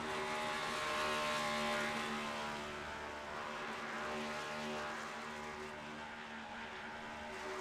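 Race car engine roaring steadily at high revs during a burnout in a NASCAR-style NextGen racing video game at Richmond's short track, loud and sustained with a continuous tonal drone throughout.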